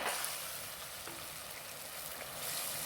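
Spices sizzling and frying in hot oil in a pan for a salmon fish curry, a steady broadband crackle close by with no talk.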